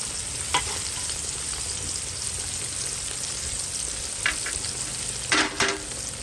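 Battered fish fries in hot oil with a steady close sizzle, faint hiss throughout and a few brief crackles and stirring clinks.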